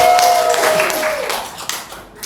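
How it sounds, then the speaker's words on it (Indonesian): A classroom of students claps for a classmate's answer, a brief burst of mixed hand claps that fades out over about two seconds, with a faint tone at the start. "Boleh kita kasih aplaus."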